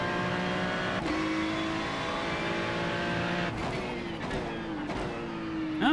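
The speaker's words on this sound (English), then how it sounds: "Oh yeah, I'm braking pretty hard now." Race car in a simulated IMSA racing game on a drying track, engine droning steadily with several sharp downshift blips and pitch drops as it brakes hard, a continuous close mechanical roar.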